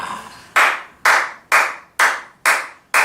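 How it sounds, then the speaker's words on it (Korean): A single person claps their hands six times in a slow, even rhythm, each clap sharp and close with a short ringing decay, alone with no talk. "내가 왜 박수를 치느냐?"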